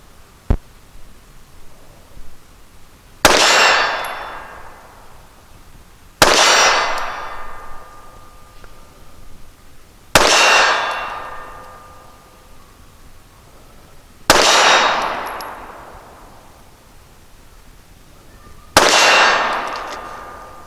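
A handgun is fired one-handed at a small steel torso target 20 yards away, five sharp shots spaced a few seconds apart. Each is followed by a ringing metallic clang that slowly decays.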